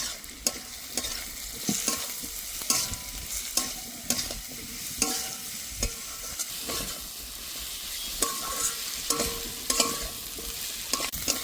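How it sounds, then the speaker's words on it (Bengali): Potato and spices, including turmeric, coriander, cumin and chili powder, sizzle and fry in a pan for kachori filling while a spoon stirs them in close, repeated scraping strokes over a steady crackle. "এবার ভালো করে কষে নেব।"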